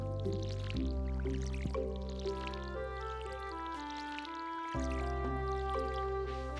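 In the video game Stardew Valley, a watering can pours over crops, a bright splashing stream with dripping tones lasting several seconds, clear and prominent with no talking over it.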